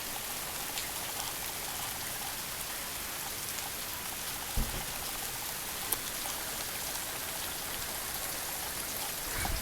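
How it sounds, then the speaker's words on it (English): Steady rain falls outdoors on wet ground, a constant dense hiss of drops with a few louder spatters, close and even throughout, no talking. "cause it's effing raining outside"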